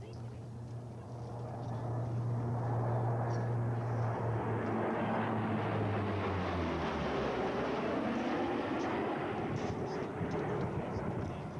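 An RNZAF Lockheed C-130H Hercules flies past at the Warbirds Over Wanaka 2004 airshow, its engine roar building to a broad, sustained rumble while a low tone slides downward as the aircraft passes.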